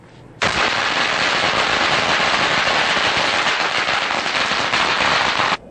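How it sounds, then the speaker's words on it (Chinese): A long string of firecrackers goes off in Kaohsiung to mark a lottery win, a loud, dense, unbroken crackling that starts abruptly and runs for about five seconds before cutting off. "鞭炮声响彻云霄"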